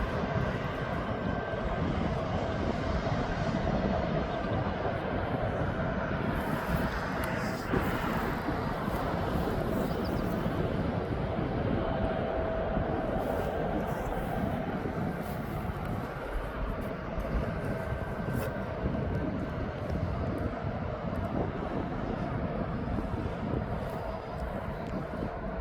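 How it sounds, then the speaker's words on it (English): A six-year-old TUI airliner taxiing from the departures area at East Midlands Airport, its jet engines a steady, moderately distant whine and rumble that holds evenly throughout with no talk over it. "we got the TUI now making his way up from departures."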